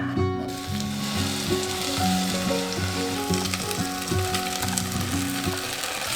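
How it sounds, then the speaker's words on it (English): Chopped vegetables for sambar, including tomato chunks, sizzle steadily in a hot pan, a dense, close crackling hiss over a sustained tonal background, with no speech. "Cook everything turn by turn in a pan, starting with the ones that take more time to cook."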